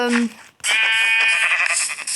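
A sheep bleats in Minecraft survival mode, a short wavering bleat following a brief voiced sound, loud and up close with a tremulous buzzing quality.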